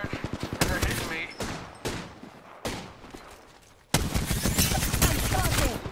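Loud automatic gunfire in the Apex Legends battle royale game, with rapid rhythmic bursts and brief pauses before a heavy sustained volley near the end.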